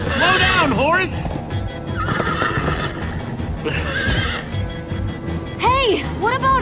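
Loud, close whinnies burst out at the start, midway and near the end as horses gallop in Minecraft: Story Mode, their hoofbeats running continuously beneath overlapping voices.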